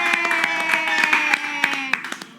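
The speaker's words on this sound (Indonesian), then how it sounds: "tepuk tangan dong" A small group claps at a cooking class event, a brief scatter of uneven hand claps over a sustained background tone, fairly close and moderate in volume.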